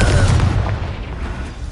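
A Confringo blasting spell in the video game Hogwarts Legacy goes off as a loud, deep explosion, its rumbling boom filling the clip and fading slowly.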